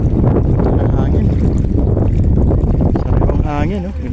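Steady, loud wind rushing over the microphone with a broad roar on a dike, while voices talk underneath throughout.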